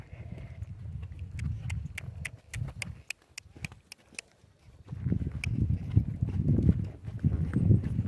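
Horse hooves clip-clop on the ground as the animal walks and trots, a steady series of distinct close strikes giving way to a denser, busier rhythm, with no talk over it.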